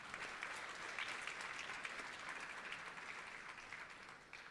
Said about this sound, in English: I want you to give my team a very big round of applause